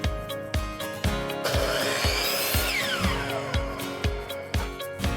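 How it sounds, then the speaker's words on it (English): A power saw cuts wooden dowels to size with a rapid, regular series of close, sharp strokes, and a brief louder rasping whine partway through. "so we are cutting the dowels to size"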